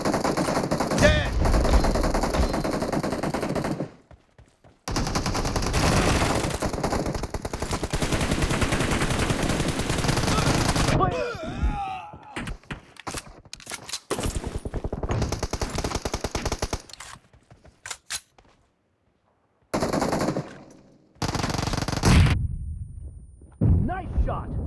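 Automatic weapon fire from the mobile battle royale game BGMI, sustained bursts broken by brief silent gaps, loud and close, with mixed game effects between the volleys.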